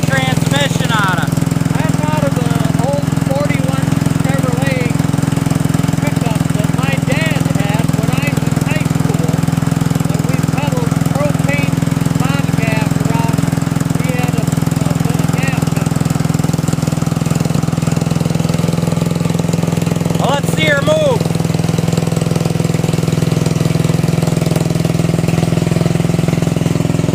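A homebuilt 1963 tractor with a 1952 Ford rear end runs steadily, its engine giving a continuous low drone close by. People talk over it throughout.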